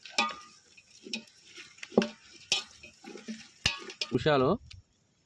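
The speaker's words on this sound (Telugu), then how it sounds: "వెల్లుల్లి బాగా ఫ్రై చేసుకోవాలి" Garlic and green chillies frying in a pan for a village-style chicken curry, heard as faint sizzling broken up by sharp clinks and scrapes of a utensil against the pan.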